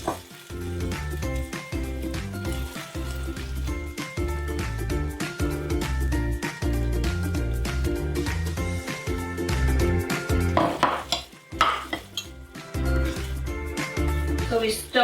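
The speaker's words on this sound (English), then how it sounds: "So we stir that and cook it for 1 to 2 minutes" Tomato and cashew paste for Veg Kolhapuri sizzles steadily in a pan as it is stirred and cooked, under rhythmic music and a talking voice.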